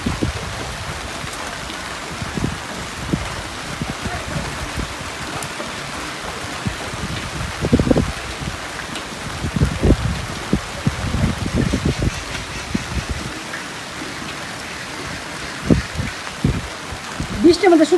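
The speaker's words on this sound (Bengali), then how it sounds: "বৃষ্টির মধ্যে শুধু ভিজতেছে।" Rain falls steadily on a Bangladeshi village during the monsoon, a constant hiss of drops on surfaces, with people talking intermittently over it and occasional louder splashes and knocks nearby.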